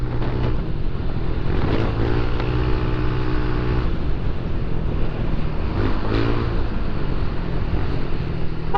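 A Honda Click 150i scooter engine drones steadily up close, its pitch rising and falling as it shifts speed amid traffic, with loud wind rush throughout.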